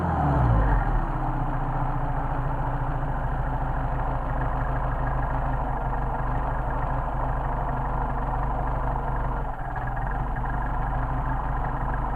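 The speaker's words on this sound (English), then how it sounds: "This is running about 600 RPM idle, which is actually a little on the low side" A Mercedes 190SL engine with Solex carburetors idles at a low speed, a steady, loud throbbing rumble with an even low pulse that holds throughout, dipping briefly once near the end.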